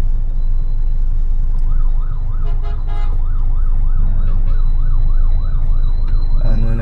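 An ambulance stuck in heavy Manila traffic wails its siren in a rapid, repeating up-down yelp, loud and nearby over the steady rumble of idling vehicles.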